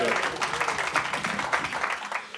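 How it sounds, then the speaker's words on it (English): Round of applause at a council cabinet meeting, a moderate steady clatter of clapping hands from a small group of people in a room, lasting a few seconds. "So I'll have a round of applause"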